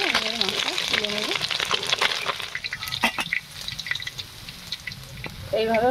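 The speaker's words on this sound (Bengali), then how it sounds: "এইভাবে বাকি মাছগুলো ভেজে নেব" Rui fish fries in hot oil in a kadai, a close, steady sizzle with crackles and spatters, interrupted near the start and end by brief swooping, whistle-like tones, with no talking.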